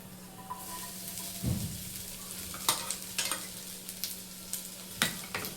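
Finely chopped onions fry in a pan for a vegetable puff filling, with a steady close sizzle and scattered scraping clatters of a spoon stirring them, sharper scrapes at intervals.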